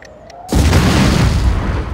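Loud, close bomb explosion in the video game The Godfather II, a sudden heavy boom that bursts in after half a second of quieter game sound and rumbles on to the end.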